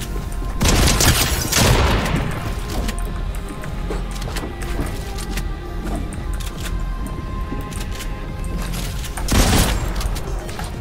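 Rapid bursts of weapon gunfire in a Fortnite match, with loud volleys at the start and again near the end and scattered shots in between.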